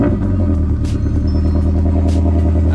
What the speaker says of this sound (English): Let's go ahead and start up the car.